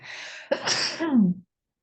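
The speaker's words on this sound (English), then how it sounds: "I'm about to sneeze." A single close, loud sneeze: a sharp inhaled buildup followed by a forceful burst that trails off, with no talking.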